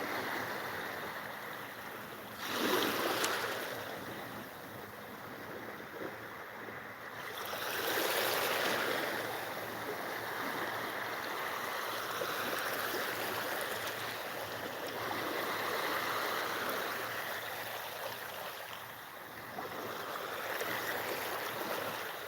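Shallow ocean waves wash over rippled sand on a Thai beach at sunrise, a continuous close hiss of water with slow swells of louder surf rising and falling every few seconds, no voices.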